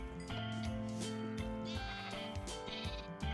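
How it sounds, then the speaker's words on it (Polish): Sheep bleat repeatedly in the Minecraft video game, a steady run of overlapping, close and fairly loud cries from a flock crowding near a player, with no talk over them. "owce wszystkie zmierzają w moim kierunku"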